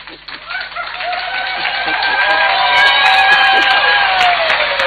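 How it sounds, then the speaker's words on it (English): A crowd at a Zambian presidential address cheering with high, wavering ululating cries, building in loudness and sustained throughout, with scattered percussive claps underneath. "by rising to your feet, by clapping and ululating in giving our Father"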